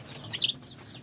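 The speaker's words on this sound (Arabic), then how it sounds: "مسكت يا جماعه ما شاء الله الديك اهو" A chicken coop holds a short, faint cluck from a hen or rooster, one brief call rising above a soft background hum, with no voices.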